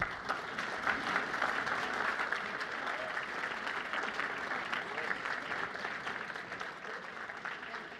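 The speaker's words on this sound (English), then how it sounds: "Let's give Trista a round of applause, please." Audience at a fall business conference applauding a speaker, a sustained, even wash of many hands clapping, moderately distant and steady throughout with no break.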